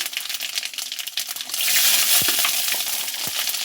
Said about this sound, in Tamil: எண்ணெய் காஞ்சிருச்சு மிளகு சீரகம் சோம்பு போட்டுக்கலாம் போட்டுட்டு சின்ன வெங்காயமும் பூண்டு சேர்த்துக்கலாம்